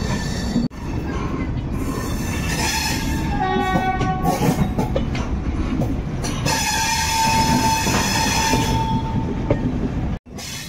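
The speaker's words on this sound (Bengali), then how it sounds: "এখন মথুরার থেকে বেরোলো, ট্রেনটা ছাড়লো।" Passenger train running just after pulling out of Mathura on the way to Agra Cantt, a steady loud rumble of wheels and carriages with squealing and clattering, a horn blast mid-way, continuous throughout with a brief drop near the end.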